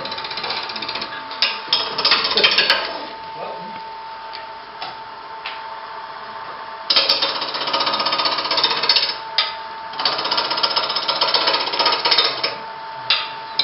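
A 3/4 inch roughing gouge cuts wood spinning off-center on a lathe, giving a steady, rapid knocking chatter at close range that pauses briefly partway through before resuming.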